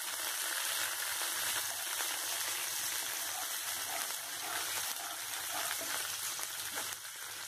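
Chopped onion sizzling in hot oil in a pan for vegetable upma, a steady, dense crackle that stays close and even throughout with no voices.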